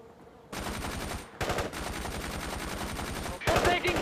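Sustained gunfire in a World in Conflict Soviet assault battle near Eatonville, with dense bursts of rapid shots in several long volleys, loud and close.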